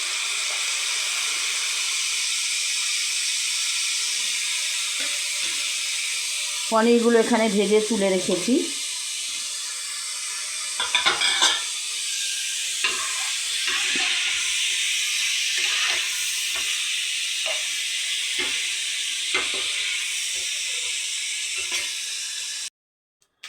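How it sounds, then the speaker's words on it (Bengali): Steamed cauliflower florets are lightly fried in oil in a pan, sending up a steady close hiss and sizzle. A voice talks over it at times, with a few brief clatters. "আমি এগুলো তেলের মধ্যেই দিয়ে দিলাম, এই তেলেই দিয়ে দিলাম। এগুলো একটু হালকা ভাজা হবে।"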